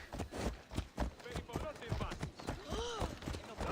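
Horse galloping in Assassin's Creed Odyssey, with soft rhythmic hoof thumps running steadily under continuous game music and voices, the mount bouncing oddly from a glitch.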